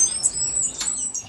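Cuban grassquit finches in aviary cages chirp in thin, high tweets and flutter their wings in quick bursts, close by and steady throughout, with no talking.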